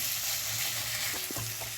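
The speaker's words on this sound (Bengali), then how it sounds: "তো আদা রসুন দিয়ে বন্ধুরা এটাকে একটু ভেজে নেবেন, নইলে কাঁচা গন্ধ থেকে যাবে" Ginger and garlic fry in a pan with a dense, continuous sizzle and a faint low hum, while a couple of soft stirring scrapes come near the end.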